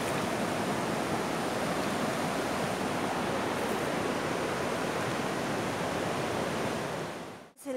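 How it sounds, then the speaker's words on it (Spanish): The Río Macho in Cartago, Costa Rica rushes in a steady, dense roar of flowing water, constant and close throughout, cutting off abruptly at the end. "Vean, este es el río reventado, el río Macho"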